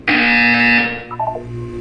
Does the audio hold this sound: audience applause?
no